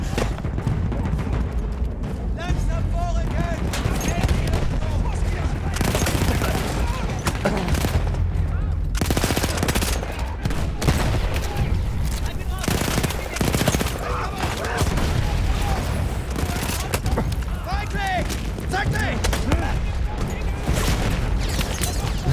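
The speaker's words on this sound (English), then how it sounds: "Stop shooting at me!" Sustained, dense gunfire rattles in bursts of rapid shots and scattered single cracks in a trench battle game, loud and close throughout, with occasional booms and shouting voices mixed in.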